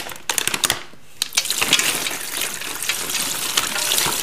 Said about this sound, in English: I'm gonna very carefully try and pour our brine into the bag.